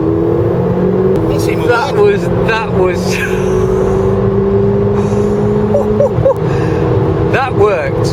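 A Mercedes A45 AMG sits at a launch control start, its engine holding a steady high rev, then dropping and surging with a short roar. Someone speaks over it, with clicks and shifts between his words.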